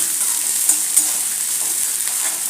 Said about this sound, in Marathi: कांदा एकच घेतला आहे आणि तो व्यवस्थित परतून घ्यायचा आहे